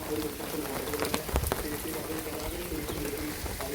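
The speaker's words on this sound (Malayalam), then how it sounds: "നല്ല മഴയാണ്" Heavy rain falls in a steady hiss during a flooding downpour, with a few birds cooing faintly and people talking nearby.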